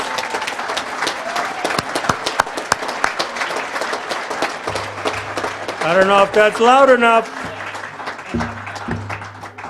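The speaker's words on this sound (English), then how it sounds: "give her and any female that has enhanced your life a loud round of applause" A loud round of applause fills the room at an induction ceremony for a softball hall of fame, sustained clapping and crowd noise rising toward the middle, with a voice speaking over it and cheers mixed in.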